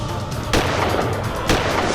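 Two loud gunshots ring out about a second apart, each a sharp blast that lingers with reverb over a steady, noisy background.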